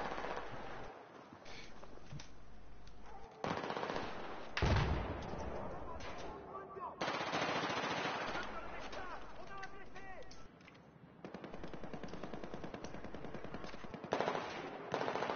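Rapid gunfire from Battlefield 4 game play, with pistol shots and heavier bursts crackling almost without pause over the full stretch, loud and dense, with brief lulls and a voice talking now and then beneath.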